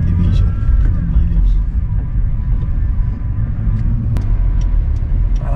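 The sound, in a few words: 2010 Hyundai Genesis V6 coupe driving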